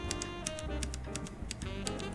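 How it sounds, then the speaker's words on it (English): Typing on a Cooler Master Masterkeys Pro RGB mechanical keyboard with tactile Cherry MX Brown switches, a quick, uneven run of close keystroke clacks over a soft tonal background. "I chose the Cherry MS brown switches for this keyboard."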